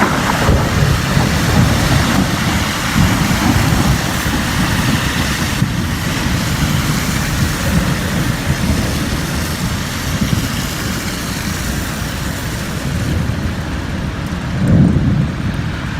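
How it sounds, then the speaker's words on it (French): Heavy rain from a thunderstorm over Amiens roars steadily with wind buffeting the microphone, a broad continuous wash with a low rumble swelling near the end. "nous avons le droit à un nouvel orage"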